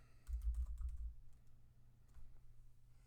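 Brief burst of computer keyboard typing, a quick cluster of soft clicks near the mic, then quiet room tone.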